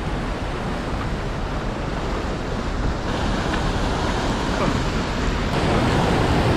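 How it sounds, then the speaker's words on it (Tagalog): Strong ocean waves crash and wash steadily onto a rocky fishing shore in stormy weather, a loud, continuous broadband roar of surf mixed with gusting wind that builds slightly toward the end. "Sobrang lalakas ng Alon."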